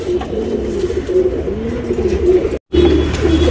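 Tournament racing pigeons cooing in a loft: repeated soft, low throaty coos in overlapping phrases, close and steady, with a brief silent gap near the end and no talk.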